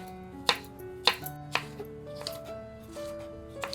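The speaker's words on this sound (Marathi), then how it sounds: "इकडे आता टोमॅटो सुद्धा आपण बारीक करून घेतोय." Tomatoes being finely chopped with a knife, a few crisp taps on a board spaced about half a second apart, then softer scattered cuts, close up under faint background music.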